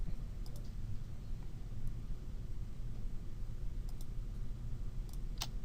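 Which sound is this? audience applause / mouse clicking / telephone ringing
mouse clicking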